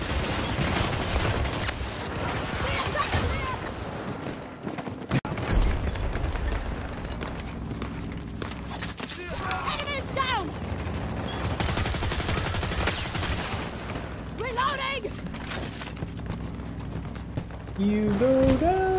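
The Rorsch Mk-4 Railgun fires in a Battlefield 2042 match, loud cracking shots over busy battle noise with other gunfire, impacts and footsteps. A voice can be heard talking at times.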